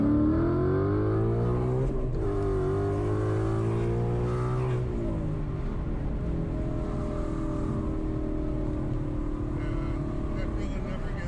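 A 1000-horsepower Dodge Hellcat engine accelerates hard inside the car, rising tones climbing through the revs and then easing off, with occupants talking over the roar.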